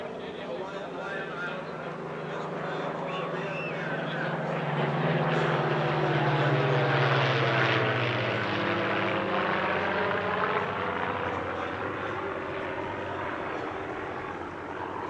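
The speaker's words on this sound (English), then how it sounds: "After a few formation passes, the P-40E broke off for a solo display." A Curtiss P-40E propeller fighter flies a solo airshow display. Its engine drone rises to a peak and shifts in pitch as it sweeps past, then fades to a softer hum.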